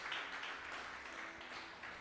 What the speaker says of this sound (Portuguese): Você aplaude ao Senhor